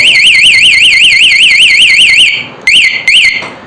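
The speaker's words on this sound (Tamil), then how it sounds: "அலாரம் வச்சுன்னா அலாரம் ஆகும்" A loud warbling electronic anti-theft alarm siren on a Yamaha R15 V3 motorcycle wails in a rapid rising-and-falling pattern, stops, then gives two short chirps before falling quiet.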